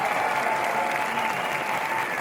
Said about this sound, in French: On applaudit bien fort notre nouvelle reine